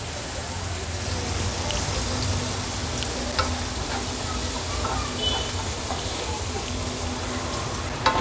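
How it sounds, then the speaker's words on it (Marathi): Onion cooking gently in a pan over a low gas flame, a soft, even, rain-like sizzle holding steady throughout with a few small clicks, no voice over it. "थोडासा परतून घेतला का गॅसची फ्लेम मी अगदी लो करते आणि लो फ्लेमवर हा कांदा छान शिजवून घेते"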